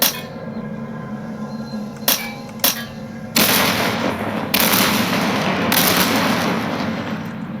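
Chain-reaction explosions in the video game Anomaly: a couple of sharp blasts, then a heavy sustained roar of overlapping detonations and crackling bursts that stays loud and dense for several seconds.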